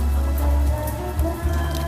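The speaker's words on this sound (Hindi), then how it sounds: "तो अभी भी बारिश हो रही है" Steady rain falls in the Philippines, a dense even patter of drops on surfaces that stays close and constant throughout with no voices.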